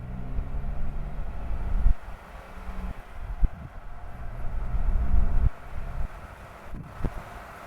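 A Jeep Wrangler Sahara TJ engine drones low and steady from inside the cabin as it rolls off from a stop in second gear, the rumble swelling and easing with throttle amid wind noise.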